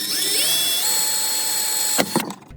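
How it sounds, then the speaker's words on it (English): An electric drill whines as it spins up, drilling a pilot hole through a car panel, runs steadily, then cuts off with a couple of short bursts. "Now I'm going to drill the pilot hole."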